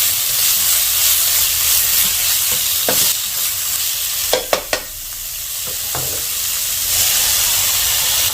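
Pork stir-fried over high heat, a loud continuous sizzle and hiss with scattered clinks and scrapes of a spatula against the pan, bunched into quick taps midway.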